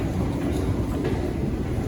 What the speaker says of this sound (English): so the train could unpack and drop a lot of people off